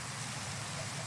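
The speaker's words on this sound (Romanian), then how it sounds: "Probabil era ploaie și din cauza asta." Rain in the Minecraft video game makes a steady, even rushing hiss that fills the short moment alone, with no voices over it.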